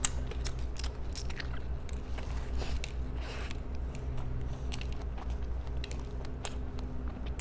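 Strawberry topped with dairy cream being bitten and chewed close to the mic, wet squishy crunches and mouth sounds repeating steadily over a low background hum.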